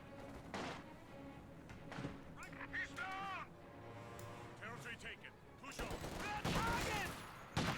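In a WWII strategy video game, light machine guns fire in rapid bursts amid other battle sounds, while a commentator talks over the action throughout.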